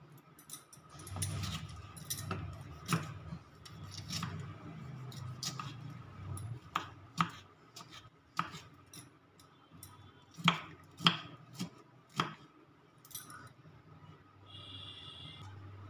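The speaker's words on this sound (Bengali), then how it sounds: "এবার 2টো টমেটো কুচি করে নেব।" A knife chops two tomatoes on a board, a series of distinct close taps and soft squishy cuts at an irregular rhythm, fairly quiet overall with a low hum behind.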